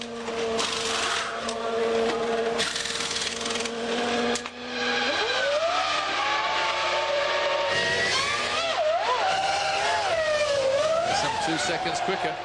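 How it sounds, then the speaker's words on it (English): A 2000 Formula 1 car's V10 engine at the Austrian Grand Prix winds up in rising, swooping high-pitched revs after a steady tone, loud and near with commentary voices over it. "Great sound there as they're winding up that V10"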